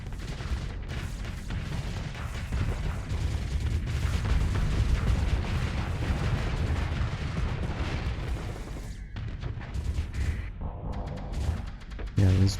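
Ship guns firing in the space game Starsector, a sustained barrage of heavy booming shots and rumbling impacts that thins out toward the end, with a few sharp cracks.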